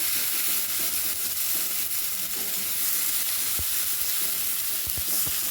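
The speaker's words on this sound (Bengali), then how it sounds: "লঙ্কা বাটা, আদা বাটা, জিরা, ধনে, হলুদ একসঙ্গে মিশিয়ে আমি তেলের মধ্যে ছেড়ে দিলাম। এবার কষিয়ে নিচ্ছি।" Chili paste, ginger paste, cumin, coriander and turmeric sautéing in hot oil, a steady close sizzle with scattered stirring scrapes and a few sharper pops toward the end; no voices.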